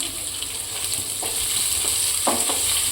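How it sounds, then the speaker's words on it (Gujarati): Finely chopped onion sizzles in hot oil in a pan for upma, a steady close frying hiss with a few scraping stirs. "હવે આપણે ઝીણી સમારેલી ડુંગળી નાખીશું"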